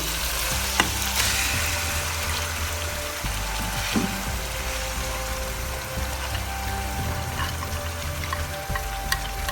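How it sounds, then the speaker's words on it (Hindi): Urad dal frying in roasted masala in a pan gives a dense, steady sizzle, with stirring scrapes and a few sharper spatters and knocks close by. "भून चुका है हमारा मसाला और अब हम इसमें शामिल करेंगे दाल डाल देते हैं इसमें हम"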